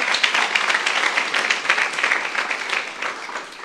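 A church youth congregation claps together during a sermon, a full, steady wash of applause from many hands that holds for the whole stretch.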